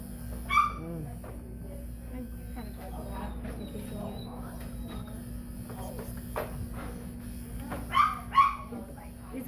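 A Shih Tzu with an eye abscess gives soft whimpers and a few brief yelps while being treated, faint against a quiet room, with people speaking gently nearby.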